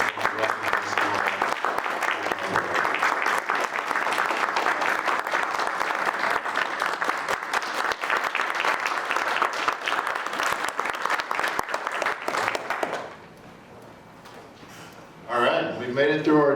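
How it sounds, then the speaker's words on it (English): Board meeting attendees give a sustained round of applause, steady and fairly loud clapping lasting around thirteen seconds before it cuts off, followed by a brief voice. "So if everyone could join me in a round of applause, just to recognize you all."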